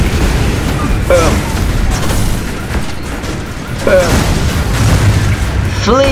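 Cannon fire from a robot vehicle in the video game Robocraft: several heavy booming blasts spaced a few seconds apart over dense, rumbling battle noise.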